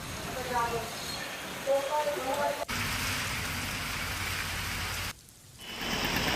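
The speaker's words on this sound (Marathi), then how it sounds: "कल्याण डोंबिवलीमध्ये मुसळधार पाऊस सध्या सुरू आहे" Heavy monsoon rain pours down in Kalyan-Dombivli, near Mumbai, in a dense, steady hiss, with muffled voices briefly audible beneath it early on.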